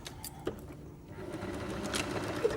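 A sewing machine stitches fabric into a drawstring bag shape, sewing right sides together down the back seam; a soft, steady mechanical whirr runs quietly throughout with small ticks and bumps.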